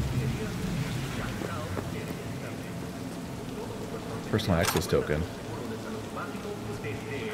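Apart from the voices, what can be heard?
rain falling in the video game Cyberpunk 2077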